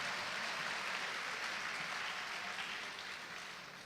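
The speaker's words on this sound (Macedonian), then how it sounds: "Ајде еден аплауз за поддршка на Методи" Concert audience in a hall giving sustained applause, a dense even wash of clapping that holds steady and begins fading toward the end, with no voices over it.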